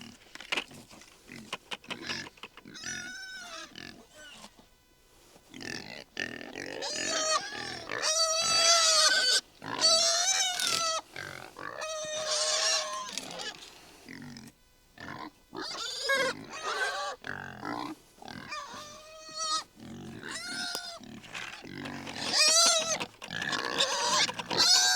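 Several pigs grunt and squeal in overlapping bursts close by, a busy, continuous chorus of snorts and oinks.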